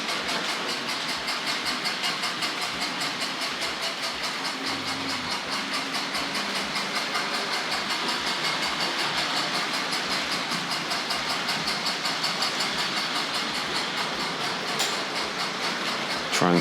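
A Hornby R.761 Kneller Hall model steam locomotive hauling Pullman cars gives off a rapid, regular chuff from its sound unit, steady and fairly loud with a hissing wash and a faint motor hum, no talking.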